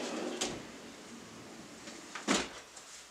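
A shop tool drawer slides and bumps shut, with a sharp knock near the start and a louder sliding thud near the end, close and fairly quiet.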